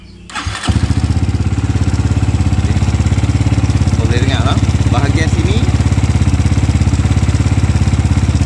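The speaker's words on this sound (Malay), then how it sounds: "bunyi bahagian enjin yang ketek-ketek tu adalah antara bunyi rantai kecil" A SYM VF3i motorcycle engine starts and settles into a loud, rapid idle with a fast ticking rattle from a loose timing chain; a person speaks briefly over it.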